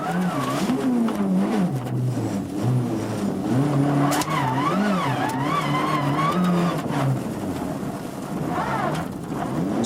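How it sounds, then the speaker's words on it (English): A Mitsubishi Lancer rally car on the snowy 1995 Monte Carlo Rally swings through a handbrake turn, its engine revving hard and wavering with tire slide, loud and continuous. "Swift handbrake turn to regain the right direction."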